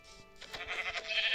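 A sheep bleats in the Minecraft video game, a single short wavering bleat that stands alone and is clear and close.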